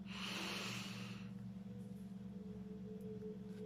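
One slow, deep breath, a long airy inhale or exhale drawn through the nose, close and soft over a steady low hum, fading into quiet.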